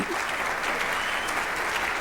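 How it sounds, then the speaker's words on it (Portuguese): At a dental conference on endodontics, a hall audience claps warmly to welcome a speaker, a brief, steady wash of dense applause with no voices over it. "Con ustedes quiero presentar y quiero que reciban con un caluroso aplauso al doctor Igor Bastos."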